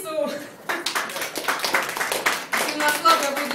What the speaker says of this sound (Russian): И на слабый аплодисмент, как будто на человек 8